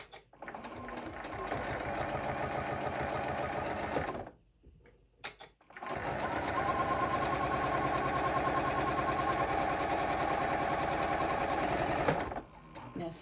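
A sewing machine stitches a tote bag seam close to the edge, running in two long, steady, fast-rattling bursts separated by a short pause, then stopping at the end.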